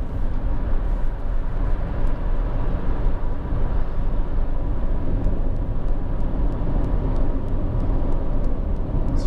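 Honda CR-V 2.2 i-CDTi diesel station wagon heard from inside while driving, a steady low engine and road rumble with tyre noise, constant and fairly loud throughout with no talk.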